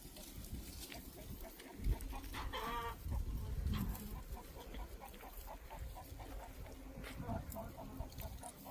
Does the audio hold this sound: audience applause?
no